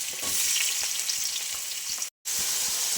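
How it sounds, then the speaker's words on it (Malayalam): Chopped onions hit hot oil for a Kerala chicken curry and sizzle loudly up close. The frying is continuous apart from a brief total dropout near the end, and no one speaks. "ചൂടായ എണ്ണയിലേക്ക് സവാള ഇടാം"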